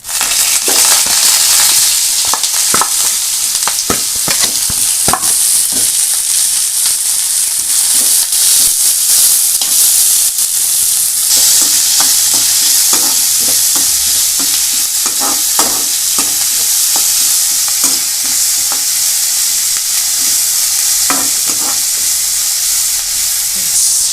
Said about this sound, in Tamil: இப்போ நம்ம வெங்காயத்தை போட்டு வதக்கிடலாம்